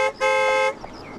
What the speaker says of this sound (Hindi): अरे हॉर्न मारो ना भाई, ये कौन चल रहा है रास्ते के बीच में?